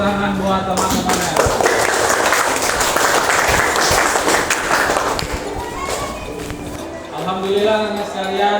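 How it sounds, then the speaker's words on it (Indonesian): A classroom of students breaks into applause, a dense burst of clapping lasting several seconds before fading, with a teacher and students talking around it. "Baik, beri tepuk tangan buat teman-temannya."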